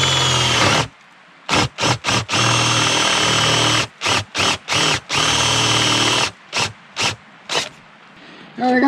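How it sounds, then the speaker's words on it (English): Power drill boring a hole through a plastic end cap for a hoop house raised bed, with loud whirring bursts of varying length separated by brief pauses, close up. "I'm going to drill a hole through this new end cap that I got here."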